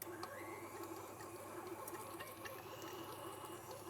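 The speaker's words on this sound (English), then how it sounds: "So I'm going to put my soft butter inside the mixer. I'm going to get the motor running." An electric mixer's motor whirs steadily while beating soft butter with sugar, a faint, even mechanical hum with a light rhythmic churning underneath.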